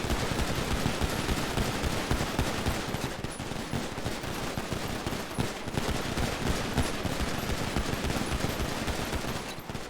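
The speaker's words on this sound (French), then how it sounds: "Mass shooting" Dense, continuous automatic gunfire in a video game role-play funeral, a loud, sustained barrage of overlapping shots with no break.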